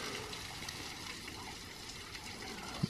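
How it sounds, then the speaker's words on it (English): A steady, broadband rush of falling water at Burden Falls in Shawnee National Forest, Southern Illinois, constant and somewhat distant, with no other sounds standing out. "but it's still waterfall"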